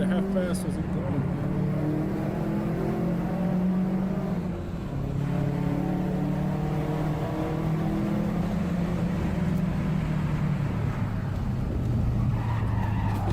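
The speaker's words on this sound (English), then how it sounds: "He was left skidding towards the edge, all of which was captured on his dash cam." A car skids toward the edge of a mountain road, recorded on a dash cam: a continuous rough tire and engine roar holds steady and loud throughout, with people talking over it.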